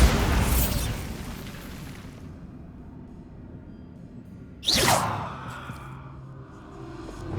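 Bombarda blasting curse explosions in the Hogwarts Legacy video game: a loud booming blast fading out over two seconds, a quiet pause, then a second sharp burst with a rumbling tail, close and without talk.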